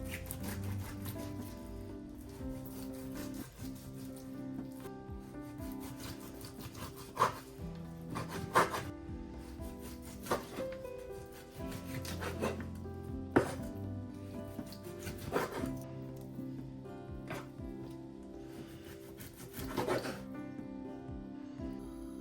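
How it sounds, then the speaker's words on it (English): A knife cutting large lamb shanks into smaller pieces on a board, with repeated close scraping, rubbing strokes and intermittent sharp chopping knocks against the wood, low and steady. "the lamb shanks were really large, so I'm going to cut them up into smaller pieces"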